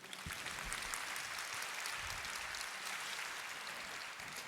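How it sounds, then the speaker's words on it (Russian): Audience applause at a lecture for a social innovation forum, a steady dense wash of clapping held at an even level throughout, fairly soft and distant, with no voices over it. "Ваши аплодисменты."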